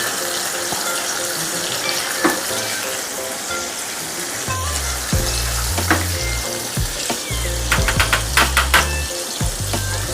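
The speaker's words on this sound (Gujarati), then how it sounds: "તમે જોઈ શકો છો એક ઉફાળ આવી રહ્યો છે" Sugar and water tempering for khaman bubbles up in a pan as a loud, continuous sizzling boil, with scattered clinks and a low hum beneath.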